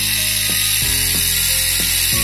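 A mini ultrasonic washing machine runs steadily, giving a loud, constant buzzing drone with a rhythmic ratcheting rattle repeating about every two-thirds of a second, with no talk over it.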